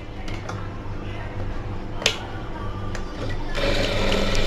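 A sewing machine stitches a folded cloth strip for a round collar neck dress, running as a steady close mechanical whir with a few sharp clicks, getting louder and busier toward the end.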